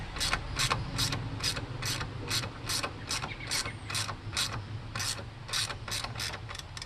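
Hand ratchet tightening a part on a 2004 Mercedes E55 AMG while replacing the front Airmatic accelerometer, a close, steady run of about sixteen sharp clicking strokes in even rhythm.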